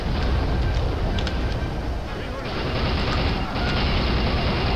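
Rapid bursts of gunfire in the video game Soldier of Fortune crackle over a dense, noisy rumble, with sharp shots scattered through the sustained din.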